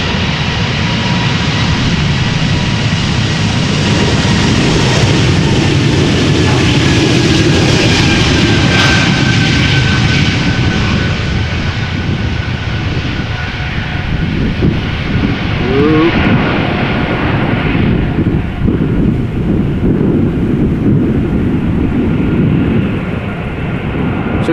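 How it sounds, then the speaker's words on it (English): A two-year-old KLM Embraer E195-E2 jet bound for London Heathrow roars loudly and steadily at Amsterdam Schiphol, a sustained close engine rush with no talking. "This is an E2 Embraer 195 going to London Heathrow, KLM flight"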